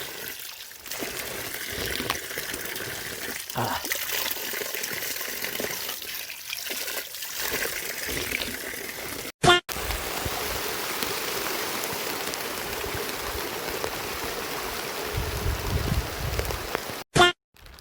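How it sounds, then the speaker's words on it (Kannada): A small mountain waterfall on the Kumara Parvatha trek gives off a constant close rush of falling and splashing water, with two brief sharp clicks breaking the steady flow. "ಈ ಗ್ಯಾಪಲ್ಲಿ ಒಂದು ವಾಟರ್ ಫಾಲ್ಸ್ ಸಿಕ್ತು, ಮಿನಿ ವಾಟರ್ ಫಾಲ್ಸ್."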